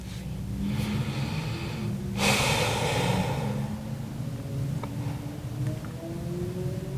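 Deep, slow breathing during a hip-opening yoga pose in a beginner home practice, with one fuller, louder exhale around the middle over a steady low background.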